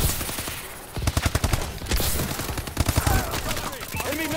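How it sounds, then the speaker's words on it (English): Rapid bursts of paintball-effect gunfire from the Call of Duty: Advanced Warfare video game, loud and close, firing in quick volleys with short pauses between them over game effects. "I have paintball effects on, it's really cool. It's just like you're shooting a paintball gun."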